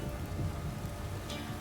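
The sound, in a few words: downpour of rain in the video game The Witcher 3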